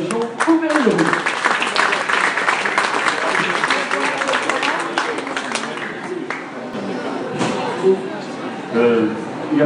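A crowd at a key handover ceremony applauds the Auvergne-Rhône-Alpes regional president with continuous clapping, while voices and a few cheers rise through the steady applause.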